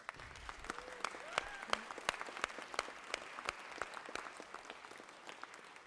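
Applause fills the Georgia Senate chamber, a crowd clapping steadily with sharp individual claps standing out, fairly distant, with faint voices underneath.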